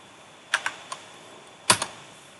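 Keys clack on a computer keyboard as someone types a website address on a client machine. There are a few quick, close, fairly faint strokes in two small clusters, with quiet pauses between them.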